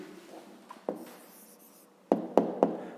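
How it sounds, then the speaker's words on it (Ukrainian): A pen writes an answer on paper during a 5th-grade math exercise, with soft scratchy strokes and then three crisp taps of the pen close by, heard alone without talk. "Пишемо відповідь."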